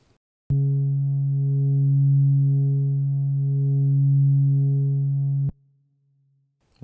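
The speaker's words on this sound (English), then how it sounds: "Now if I just bring in a sine wave" A sine wave through a Culture Vulture distortion unit with its bias knob in play, a steady buzzing tone rich in harmonics that holds for about five seconds and then cuts off, leaving a faint low hum.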